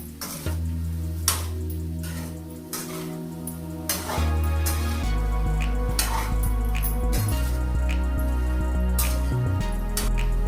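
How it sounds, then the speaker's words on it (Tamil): Chicken with turmeric and salt is stirred in a frying pan for green chicken fry, a constant sizzle broken by repeated scrapes and clinks of a utensil against the pan. "இப்போ வந்து மிக்ஸ் பண்ணிக்கலாம் நல்லா."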